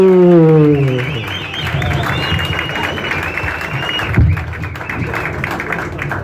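An audience at a stand-up comedy show applauds a comedian, a steady wash of clapping with scattered cheers from a nearby crowd that fades as talk continues over it.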